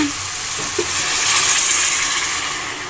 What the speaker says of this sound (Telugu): ఇప్పుడు వాటర్ యాడ్ చేసుకుందామమ్మా